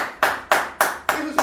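A congregation claps in rhythm during a Sunday church service, five sharp bursts of applause at a steady beat, loud and close, with a voice faintly under them.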